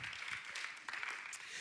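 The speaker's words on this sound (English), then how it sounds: "Give yourselves a round of applause." Audience applause at a forum assembly, a soft steady patter of many hands clapping at moderate distance.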